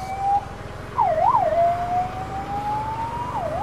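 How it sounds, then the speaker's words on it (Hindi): An ambulance siren wails, rising and falling in pitch, loud and fairly close, over a steady rumble of road traffic. "देखिए दोस्तों एम्बुलेंस आ रही है"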